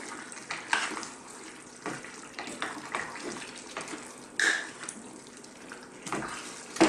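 Freshly peeled potatoes being rinsed under a running kitchen tap, with splashing water and irregular bursts as the potatoes are moved in the stream, fairly faint and close.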